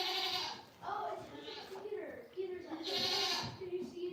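Baby goat bleating: several loud, wavering bleats in close succession, near and prominent, with people talking around them.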